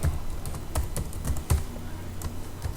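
Keys clatter on a computer keyboard in an irregular burst of close, distinct taps, with no voices.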